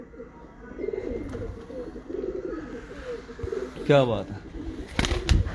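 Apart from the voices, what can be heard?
pigeons cooing, Ababil breed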